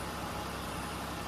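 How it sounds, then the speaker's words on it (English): A Ford/Mercury 3.0 DOHC V6 idles steadily after a valve cover gasket replacement, a smooth, even hum with no roughness, heard alone at moderate distance. "The engine's still running fine."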